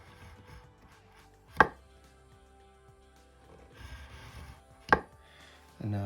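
Chisel cutting into wood during a left-handed guitar build, two sharp isolated strikes a few seconds apart over a quiet workshop background, with a third starting at the end.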